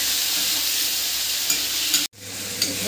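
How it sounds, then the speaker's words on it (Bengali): Masala paste with tomato fries and is stirred in a pan, a loud dense sizzle with scraping strokes that cuts out abruptly, then resumes more quietly. "এই মশলাটা আমার কষা হয়ে গেছে।"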